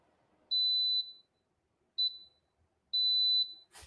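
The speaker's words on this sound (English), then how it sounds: "Okay, I hear some beeping." Three high-pitched electronic beeps from a Bluetti portable power station sound in an uneven pattern, the first and last longer than the middle one, clear against near silence.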